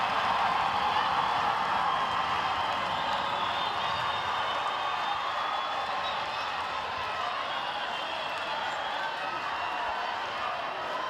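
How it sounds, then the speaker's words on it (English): A netball crowd at a Cook Islands versus Botswana youth match roars and cheers in a constant, dense wash of noise, with a commentator talking over it. "This crowd are just going crazy."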